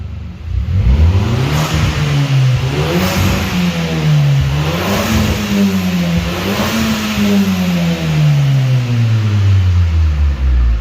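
An Audi car engine revving up and down repeatedly, hesitant at high revs, its pitch rising and falling in waves, loud and close with a steady mechanical drone.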